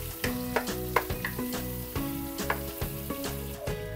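Ginger sautés in a hot pan for pampano sinigang, a close, constant sizzle with repeated scraping stirs and light clinks of a utensil against the pan.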